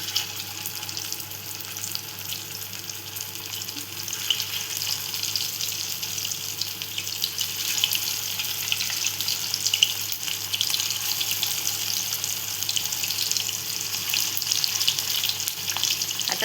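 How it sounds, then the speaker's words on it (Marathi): Potato and poha cutlets frying in a pan give off a steady, crackling sizzle that carries on evenly at moderate volume, close by and with no talking. "इथे आपले फ्राय होत आहेत मस्तपैकी असे"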